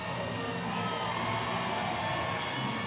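A full-capacity baseball crowd roars in steady cheers at a Banana Ball game between the Staten Island FerryHawks and the Savannah Bananas, a dense, continuous wash of voices and whoops with no single speaker standing out.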